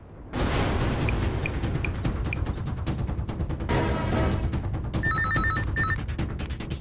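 A telephone rings in a police control room during a Tamil TV drama, with a brief electronic trilling ring near the end over a loud, dense background.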